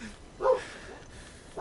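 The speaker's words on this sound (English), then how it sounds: "somebody has their dog outside and Chloe's barking" A dog outside gives a single short bark, fairly faint and distant, in an otherwise quiet indoor setting.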